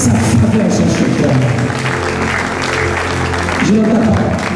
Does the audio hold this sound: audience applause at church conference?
yes